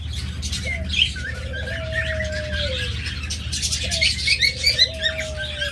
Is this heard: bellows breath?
no